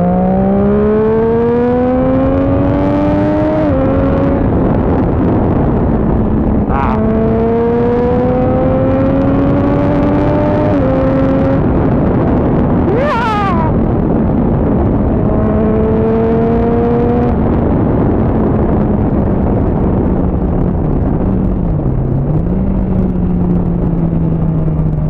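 A Triumph Street Triple motorcycle pulls hard in second gear, its engine note climbing in repeated rising sweeps that drop between shifts. The engine is loud and close throughout, with a sharp burst partway through.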